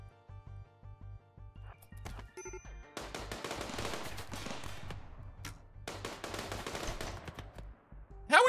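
Gunfire in the RimWorld video game: sharp bursts of rapid shots in two main volleys, mixed with scattered single pops and tonal game sound effects, moderately quiet overall, with a loud hit at the very end.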